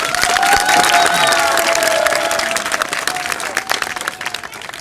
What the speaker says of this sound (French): Un tonnerre d'applaudissements, messieurs dames.